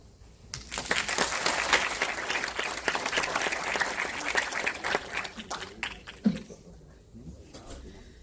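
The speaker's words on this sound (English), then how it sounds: "Big round of applause for Ellie from Seeking Alpha." A crowd applauds steadily for several seconds, the clapping swelling and then tapering off.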